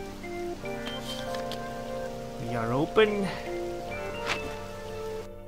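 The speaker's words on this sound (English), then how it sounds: "Oh, it is raining." Steady rain falls in the video game Persona 5 Royal, a soft continuous patter running through the whole scene beneath music and a character speaking.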